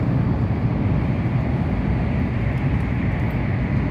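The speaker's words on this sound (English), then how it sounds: "Another train." A Shinkansen bullet train in Japan rushes past as a steady, loud broadband roar lasting throughout, with no voices over it.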